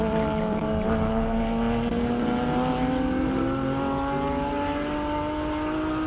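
AMG GT3 race car on the Simola hillclimb course in South Africa, engine screaming loud and continuous, pitch climbing steadily through a long gear as it accelerates up the hill, with clear harmonic whine over a rumbling roar.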